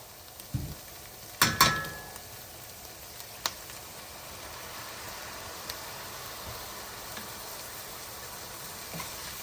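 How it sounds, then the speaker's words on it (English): Sherry wine poured into a very hot pan for a lobster pan roast. A couple of sharp clattering hits come first, then a steady, even sizzle and hiss settles in and holds at a moderate level until the end. "I'm gonna add the sherry wine."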